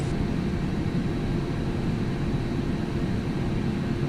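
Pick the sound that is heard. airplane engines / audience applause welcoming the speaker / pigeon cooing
airplane engines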